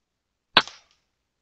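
Weihrauch HW100 air rifle fired at a squirrel, a single sharp, close crack followed by a brief thud and quick decay into silence.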